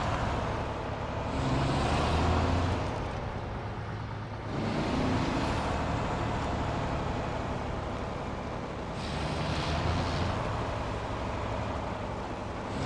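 An MTVR military truck, towing a fuel trailer, reverses in the SnowRunner video game, with a steady, full diesel engine rumble that briefly dips twice before rising again.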